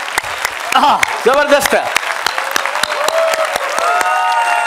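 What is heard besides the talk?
audience applause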